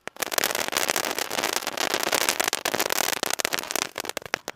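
Top Gun firework going off during Diwali, in daytime. A dense, loud, close crackling barrage of rapid pops and bangs running continuously for several seconds, thinning into scattered cracks at the end.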